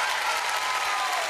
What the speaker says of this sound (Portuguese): Aplausos, cadê?